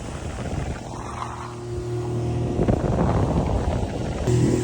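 A boat engine drones steadily with strong low rumble and wind buffeting, loud and continuous throughout, no voices.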